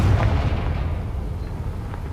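Confringo blasting spell in Hogwarts Legacy going off as a loud, deep, rumbling explosion that fills the whole stretch close up, alone with no voices.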